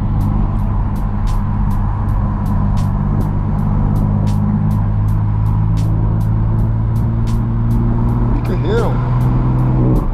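Turbocharged BMW M3 with a stick shift climbing a canyon road, its engine a steady loud drone from inside the car, with regular ticking throughout and a voice breaking in near the end.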